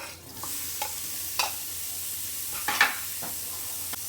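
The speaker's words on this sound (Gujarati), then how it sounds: "તો આપણું અહીંયા ઘી ગરમ થઈ ગયું છે અને એમાં આપણે ટુકડા કરેલા પનીર નાખી દઈશું." Cubed paneer fries in hot ghee, a soft steady sizzle broken by a few sharp spatters and scraping stirs, close and fairly quiet.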